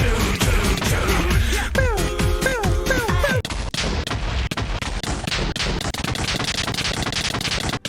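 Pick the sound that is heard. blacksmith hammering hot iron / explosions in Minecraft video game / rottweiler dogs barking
explosions in Minecraft video game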